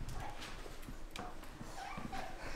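A newborn puppy whimpering and yipping in short, repeated high cries close to the microphone, with a few soft bumps in the background.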